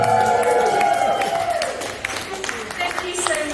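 An outdoor music festival crowd welcomes a performer with a loud swell of cheering and whoops that fades into scattered clapping and applause.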